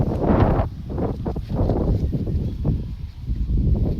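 Strong wind buffets an outdoor microphone in steady gusty rumbles, loud and continuous, with no voices.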